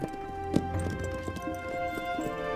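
Horse hooves clip-clop at a steady pace over a bed of music, near and fairly loud, with no talk.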